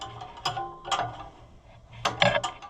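A wrench ratchets in short bursts while tightening an Oliver 550 tractor's injection pump, giving quick metallic clicking runs separated by brief pauses, close and moderately loud.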